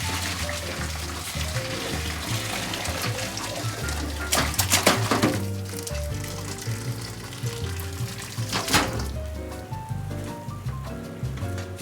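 A cooking pot is washed in a kitchen sink while making Okinawa soba with soki pork, running water and splashing throughout with louder bursts of scrubbing and clatter, nearby and unaccompanied by speech.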